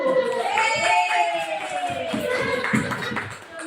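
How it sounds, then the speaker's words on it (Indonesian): Clapping rings out from a group of people mixed with voices and shouts, lively and fairly loud throughout. "Tepuk tangan dulu."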